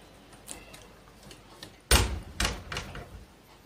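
A gate is opened in a home by a washroom door: a sharp metallic clank, then a few shorter rattling knocks over quiet room noise.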